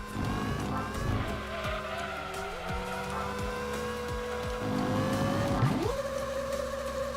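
Race cars in Gran Turismo 2 drone and whine through gear changes, with engines rising and dropping in pitch and tires squealing, a continuous, moderately loud mechanical sound with no voices.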